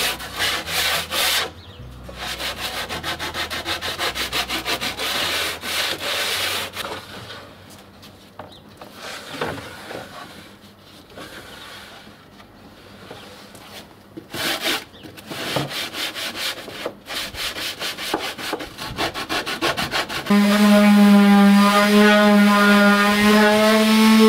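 Rough-cut wooden edges on a TV entertainment unit are sanded smooth, a steady close rubbing and scraping that runs almost without pause and ends in a louder, sustained tonal whine from the tool.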